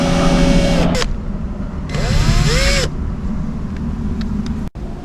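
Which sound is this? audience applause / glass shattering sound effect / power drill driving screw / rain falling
power drill driving screw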